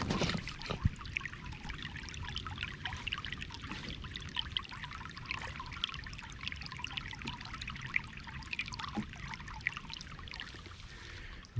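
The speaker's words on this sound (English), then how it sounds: "We have had a lot of rain recently, and it's definitely keeping the water moving" A creek swollen by recent rain runs steadily along a state park hiking trail, giving a soft, continuous trickling and babbling rush with no voices over it.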